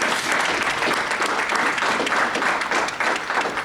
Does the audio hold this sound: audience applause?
yes